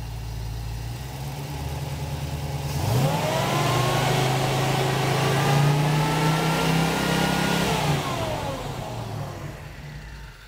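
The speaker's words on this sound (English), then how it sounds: "Go ahead and bring the RPM up a little bit." A car engine fitted with a dual sync distributor and Holley Sniper EFI idles, then is revved up and held at a higher RPM for several seconds before dropping back toward idle. The engine is close and loud, with no talk.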